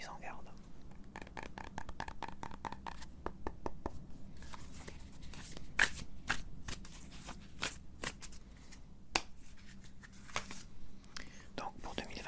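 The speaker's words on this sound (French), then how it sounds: "Donc on va tirer 3 cartes." Fortune-telling cards being shuffled and drawn up close, a quick series of crisp riffling flicks and soft paper snaps, irregular and fairly quiet, with faint whispering in between.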